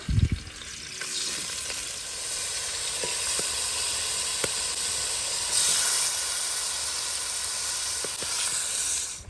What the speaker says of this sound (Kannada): ಈಗ ಫಸ್ಟಿಗೆ ಮ್ಯಾರಿನೇಟ್ ಮಾಡಿರುವಂತಹ ಚಿಕನನ್ನು ಫ್ರೈ ಮಾಡಲಿಕ್ಕುಂಟು